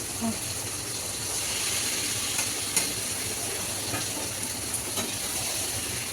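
Chicken pieces sauté in hot oil with tomato, a continuous low sizzle with occasional stirring clicks and a faint background hum.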